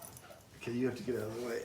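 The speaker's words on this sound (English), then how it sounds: "That's my dog" A dog whimpers and yips close by, its whiny cries overlapping a person talking at the same time.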